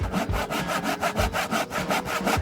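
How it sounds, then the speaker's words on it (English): A handsaw cuts through completely dry wooden boards, giving steady, loud back-and-forth rasping strokes in an even rhythm, close and alone. "We mark the material and using a handsaw, cut off everything unnecessary."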